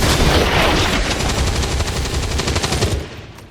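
Loud, rapid automatic gunfire from the video game XCOM 2 rattles in a dense, continuous burst for about three seconds, then cuts off abruptly.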